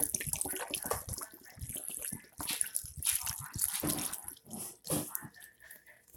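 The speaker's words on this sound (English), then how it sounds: "Add that last can of milk." Canned milk pours into a mac and cheese dish, giving a soft, uneven splashing and trickling of liquid, faint and close, with no talk.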